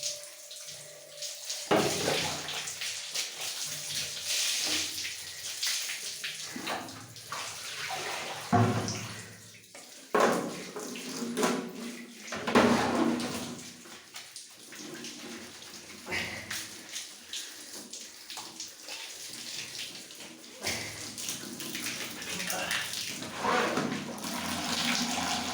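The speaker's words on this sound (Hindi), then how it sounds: "उसके बाद हम बालों को अच्छी तरह से धो लेते हैं।" Hair being rinsed under running water, a steady splashing flow with shifting gushes and drips, close by throughout.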